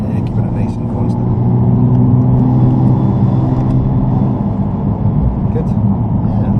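Steady, loud engine drone from inside a Nissan GT-R on a race track, holding a constant rumble with slight easing and building of power, while a voice talks over it throughout.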